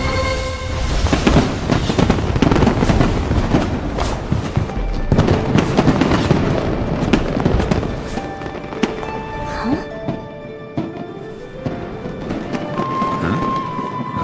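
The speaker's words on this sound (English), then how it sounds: "Fireworks show?" Rapid bursts of fireworks crackle and boom in a Genshin Impact fireworks show, dense volleys thinning into scattered pops and whistling sparkles with faint game music tones under them.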